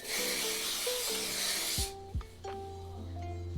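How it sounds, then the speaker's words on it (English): A continuous fine mist of Bedhead Headrush shine spray hisses for almost two seconds, then cuts off, leaving quiet tonal background music. "this is the Bedhead Headrush Shine Spray. It's a fine mist"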